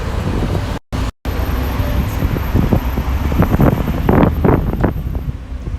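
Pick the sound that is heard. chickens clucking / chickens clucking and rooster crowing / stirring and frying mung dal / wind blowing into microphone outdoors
wind blowing into microphone outdoors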